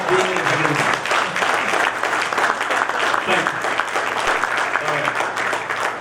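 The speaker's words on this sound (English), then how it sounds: "A round of applause for her." A room of convocation attendees at the School of Inspired Leadership claps for an executive assistant, producing sustained, even applause that fills the hall with faint voices mixed in.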